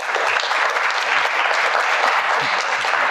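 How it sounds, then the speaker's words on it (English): Steady applause from a live talk audience, a dense uninterrupted wash of many hands clapping at once, loud and close throughout with no voices breaking through. "please put your hands together and give a big round of applause to Mr. Ali Carter."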